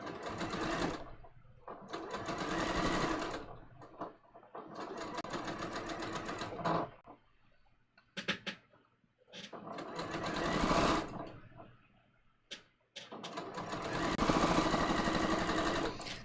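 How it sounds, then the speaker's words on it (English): Sewing machine stitching through a garment's seam allowances and facing, running in several long loud bursts with short pauses between them, close and alone. "So I'm stitching through the seam allowance and the facing,"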